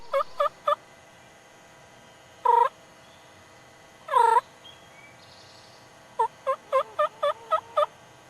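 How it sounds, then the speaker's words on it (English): A wild turkey tom gobbles about 100 yards off in spring woods: three quick gobbles, two lone calls, then a rapid string of six or seven near the end, each crisp and fairly loud against a quiet background. "a tom gobbles around 100 yards away from their setup"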